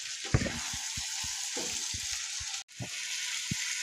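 Crabs frying in oil with spice paste for crab kosha, a quiet steady sizzle broken by repeated soft stirring knocks and one brief drop-out.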